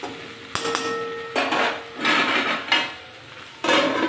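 Fried okra being stirred in a pan, with repeated loud scraping strokes of a metal spatula and a few clanks against the pan in short bursts.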